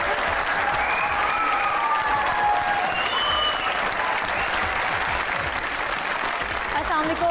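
A studio audience claps warmly for a comedy talk show guest, sustained dense applause filling the room throughout, with a few whoops rising over it and a host speaking beneath the clapping.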